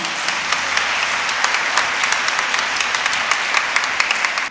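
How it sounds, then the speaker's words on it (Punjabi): A congregation at a church Mass welcoming a priest applauds loudly and steadily for several seconds, a dense wash of many hands clapping close by that stops abruptly at the end. "ਆਓ ਅਸੀਂ ਉਸ ਖੁਦਾ ਦਾ ਜ਼ੋਰਦਾਰ ਤਾੜੀਆਂ ਦੇ ਨਾਲ ਧੰਨਵਾਦ ਕਰੀਏ"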